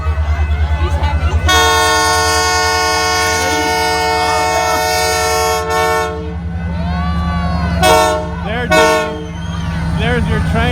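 CPKC Christmas train rolling into Rouses Point, New York, with a loud rumbling locomotive and long, close blasts of its multi-tone horn, the last two short, while a crowd talks nearby.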